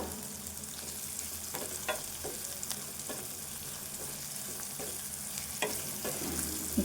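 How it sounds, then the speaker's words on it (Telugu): Green chillies and onions frying in oil in a pan for an okra fry, with a steady close sizzle and occasional scraping taps from stirring, no voices. "ఇదంతా కలుపుకోవాలి ఈ మిర్చి ఉల్లిపాయ వేగాలి ఇంకా"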